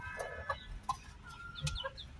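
Chickens, including a White Leghorn laying hen, cluck in short scattered bursts at close range, with a few higher calls over steady farmyard background noise and no one talking.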